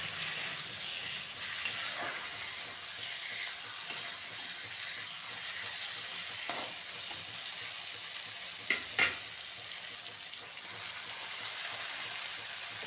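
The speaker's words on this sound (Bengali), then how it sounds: "দিয়ে একটু নাড়িয়ে চালিয়ে আমি শীষ পালংগুলো দিয়ে দিব।" Fried vegetables hiss in a pan while a utensil stirs them, giving a steady soft sizzle broken by occasional scraping knocks, two close together near the end.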